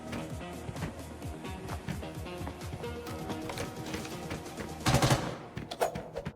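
Gunfire traded at close range in a first-person shooter game, dense rapid shots rattling continuously with a louder burst near the end, a faint voice underneath.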